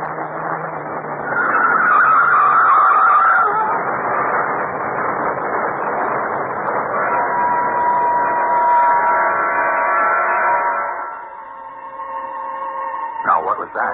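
A car skids off the road as a sound effect in a CBS Radio Mystery Theater drama: a sustained, loud engine-and-tire roar with a shrill squeal early on, fading and then ending in a few sharp bangs.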